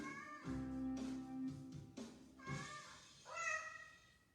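Several cats meow in a short back-and-forth, a cluster of distinct, fairly close cries with brief pauses between them, with no talk over them.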